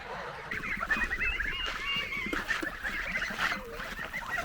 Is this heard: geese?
yes